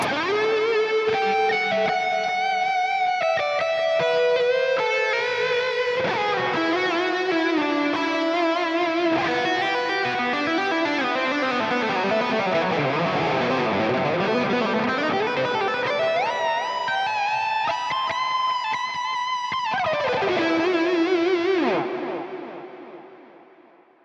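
Distorted electric guitar through the NUX Amp Academy amp modeler with its own lush reverb and echo, chords and notes ringing out atmospherically before a long fading tail.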